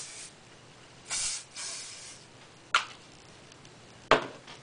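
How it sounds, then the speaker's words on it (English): Several short hissing bursts of shine spray from an aerosol can onto hair, close and moderately loud, separated by quiet pauses. "I'm going to add a bit more of the spray because it makes your hair shiny"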